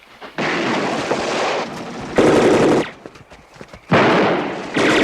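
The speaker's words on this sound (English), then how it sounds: "Stop shooting, damn it! You're gonna blow us up!" Loud bursts of rapid automatic gunfire come in three long volleys separated by short gaps, close and harsh, during a shootout in an action TV episode.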